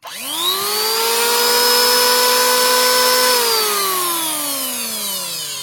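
A Masaki 870-watt electric wood planer with two blades and a 3-inch face spins up sharply from silence into a loud, close, high whine, holds steady, then its pitch drops slightly as it keeps running.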